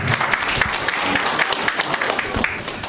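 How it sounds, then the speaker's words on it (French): Audience applauding at an installation ceremony for the Guinean community president in Port-Gentil, a brief burst of crisp, busy clapping from a crowd indoors. "Monsieur l'imam Kamara Abdoulaye, qu'on peut applaudir ce soir"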